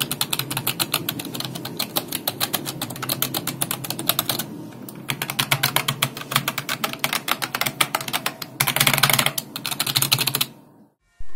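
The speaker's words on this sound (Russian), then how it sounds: "я просто не мог не дать вам послушать эту клавиатуру" Rapid, steady clicking of typing on a water-resistant computer keyboard at a desk, close and continuous in bursts with brief pauses, then stopping at the end.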